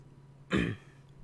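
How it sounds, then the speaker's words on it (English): One short, close throat clearing, a single rough burst lasting about a quarter second, alone against a quiet background hum. "Sorry, I had to clear my throat."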